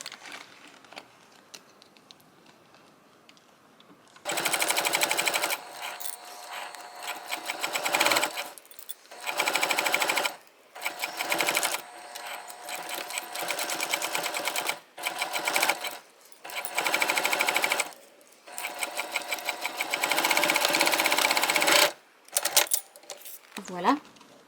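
A sewing machine runs in bursts while stitching a clear jelly vinyl boxy bag, rapid rattling runs of several seconds separated by short pauses, close and loud, with a quiet voice in between.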